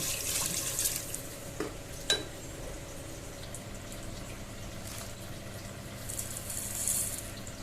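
Moong and masoor lentils are washed in water in a home kitchen, making soft continuous sloshing and swishing with a few sharp clicks, low and fairly faint throughout.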